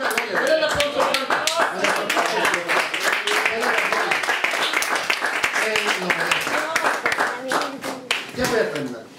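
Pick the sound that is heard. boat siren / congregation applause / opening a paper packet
congregation applause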